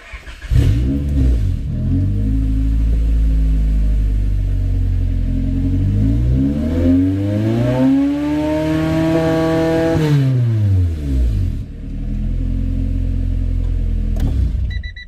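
A Honda Prelude engine revs hard, climbing past the point where VTEC engages at 5,000 rpm, then drops back to idle. It is loud and close, with one long rising-and-falling rev alone and no talking.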